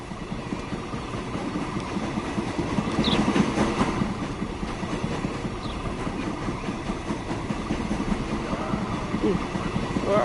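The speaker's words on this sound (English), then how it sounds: "must be the longest train." A long freight train rolls past in a continuous broadband rumble with faint rhythmic clatter, swelling slightly partway through, while people talk faintly over it.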